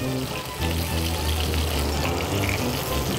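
Chicken thigh sizzling skin-side down in a frying pan, a steady dense crackle and hiss of fat that runs unbroken and fairly loud throughout, with no one speaking.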